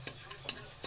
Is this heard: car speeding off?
no